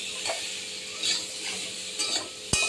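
Soft scraping of a ladle through elephant foot yam and fish curry cooking in a pan, a few gentle strokes over a faint low sizzle, ending with a sharp knock against the pan.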